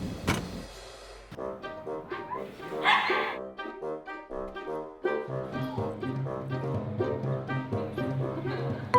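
Several small puppies bark and yip in quick overlapping bursts at an offsite pet adoption event, fairly close, with a brief whine partway through.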